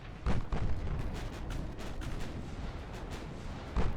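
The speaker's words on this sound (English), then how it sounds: "So he's fired some torpedoes off, and he has fired at my other battleship." Battleship guns firing in the naval warfare game Ultimate Admiral Dreadnoughts: heavy booming salvos with a sharp opening blast, a rumbling barrage that continues throughout, and another loud report at the end.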